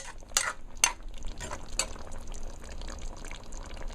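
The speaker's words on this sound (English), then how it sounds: "Just let it boil in a little." Egg curry with potato simmers in a pan, a soft bubbling and sizzling broken by a few sharp scrapes and clinks of a utensil stirring against the metal, close and without talk.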